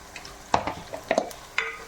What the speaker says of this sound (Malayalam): ഉള്ളി ഒന്ന് നല്ല സോഫ്റ്റായി വഴന്ന് വരുമ്പോൾ നമുക്ക് ബാക്കിയുള്ള സാധനങ്ങൾ ഓരോന്നായി ഇടാം